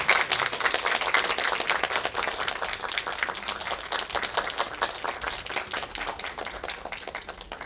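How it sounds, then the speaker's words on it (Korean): Audience applause at a Muju mountain film festival as three guests come onto the stage for a post-screening talk: dense, steady clapping from a crowd that holds for several seconds and slowly thins. "박수 부탁드립니다"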